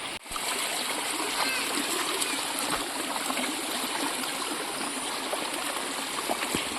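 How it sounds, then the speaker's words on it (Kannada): Rainy-season water gushing out of a hillside tunnel well, a steady close rushing stream with splashing that holds loud and even throughout, with no talking over it. "ನೋಡಿ ನೀರಿನ ಸ್ವರ ಕೂಡ ಹೇಗೆ ಕೇಳ್ತಾ ಇದ್ದಿದ್ದು, ಸುರಂಗದಿಂದ ಬರುವಂಥದ್ದು."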